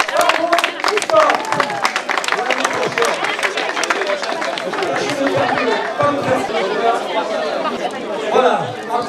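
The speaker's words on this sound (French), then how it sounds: "on les applaudit encore" Crowd at the finish of the 2012 Raid du Ciron clapping and chattering for arriving finishers, a steady dense mix of applause and babble throughout, with voices talking over it.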